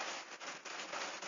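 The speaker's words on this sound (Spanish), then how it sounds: "está en este momento cayendo una especie de granizo, así que se puede llegar a escuchar un ruido de fondo interesante" Hail falling outside, a dense, steady patter of hard pellets that stays loud and continuous throughout, with no voices.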